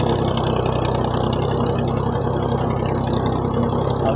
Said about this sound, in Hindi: साथ ट्रैक्टर चला रहे हैं। शोर बहुत ज़्यादा है।